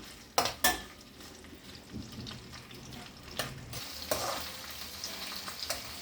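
Telagapindi, sesame flour, frying in cold-pressed sesame oil with a steady soft sizzle, punctuated by a couple of sharp utensil knocks early on and lighter stirring scrapes later, quiet and close with no voices.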